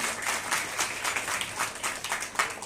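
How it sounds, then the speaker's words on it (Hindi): Audience applause welcoming film makers at an event in Bijapur, a steady wash of many hands clapping at moderate level throughout, with no talk over it. "मैं चाहूंगी कि उनके लिए एक बार जोरदार ताली से स्वागत करें।"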